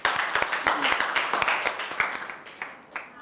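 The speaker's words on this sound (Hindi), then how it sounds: "जोड़ दो तालियां" Scattered group clapping in a workshop-style group discussion on opening up to loved ones, sharp uneven hand claps close by that thin out and fade within a few seconds.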